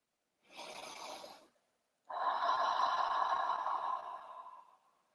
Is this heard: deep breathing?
yes